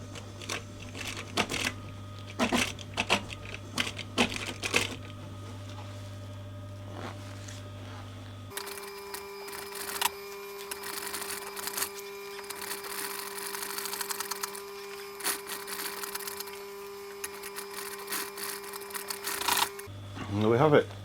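A sewing machine stitches curved insert panels for a VW T5 Transporter front seat, with bursts of quick mechanical needle chatter and steady motor hum between stops, heard close up while a person talks over part of it.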